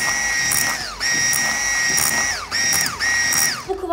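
Cupcake batter is whipped to a foamy consistency with an electric mixer, giving four loud, close bursts of high motor whine that dip in pitch as each one cuts off, with no talking.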